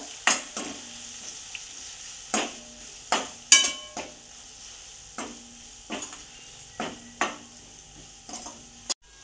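Red chilli powder and black masala sautéed in a pan over low heat, with a soft sizzle and repeated scraping stirs of a spoon against the pan at a steady pace, close and fairly quiet.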